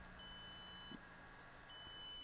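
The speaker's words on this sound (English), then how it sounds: "That beep indicates that it is updating." A Walksnail HD video system gives two faint, high electronic beeps while its firmware updates, each tone about three-quarters of a second long and separated by a short pause, over a quiet background.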